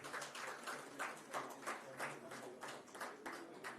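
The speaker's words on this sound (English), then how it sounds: "Dr. Krishnan Dev Srivastava, let's give him a big round of applause." Applause from a seated audience at a wellness conclave, an even spread of many hands clapping with a faint rhythmic pulse, steady throughout and heard from a distance in a large hall.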